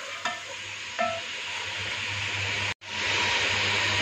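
One kilogram of goat mutton fries in a pot over a medium-high flame with a steady broad sizzle, broken by a couple of stirring clinks and a brief dropout.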